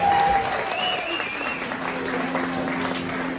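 An audience at a storytelling night performance claps steadily and loudly throughout, with some cheering and a whistle-like tone mixed into the sustained applause.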